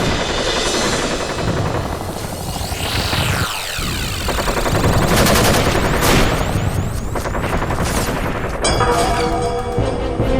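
An animated cartoon battle is full of dense, loud gunfire and explosive booms, with rapid bursts and sweeping effects layered over a busy, continuous din.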